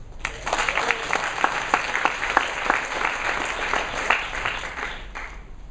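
An audience applauds steadily, a dense crowd of hand claps sustained throughout at moderate loudness.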